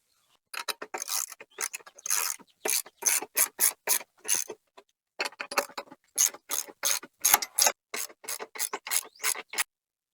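Ratchet wrench loosening the bolts holding the seat of a Gravely or Ariens zero-turn mower; rapid, close clicking strokes in quick repeated bursts with short pauses between each bolt.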